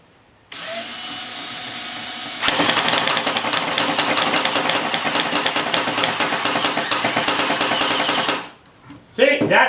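A Joe K. airsoft dual minigun fires a long continuous buzzing, rattling burst, loud and close, after a short quiet stretch, then stops abruptly; brief talk follows.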